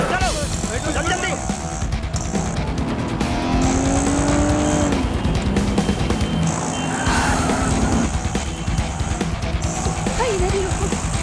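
A car tears away with tires squealing, loud screeching wails and engine roar under tense dramatic music and urgent voices in an action movie chase scene.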